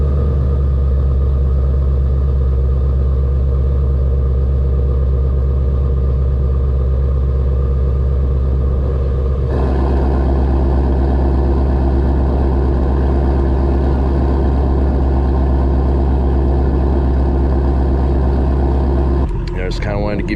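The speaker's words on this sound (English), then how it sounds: "To give you guys a little bit of exhaust tone." A Ford Mustang Shelby GT350's engine rumbles loudly and continuously at startup, its deep exhaust tone shifting once partway through, then cutting off abruptly at the end.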